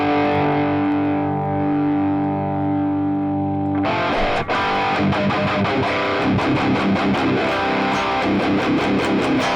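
Electric guitar through an Axe-Fx III amp model with the master volume turned all the way up, a sustained distorted chord that gives way to loud, dense strummed rhythm playing, close with no talk.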